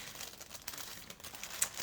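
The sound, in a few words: unwrapping crinkly packaging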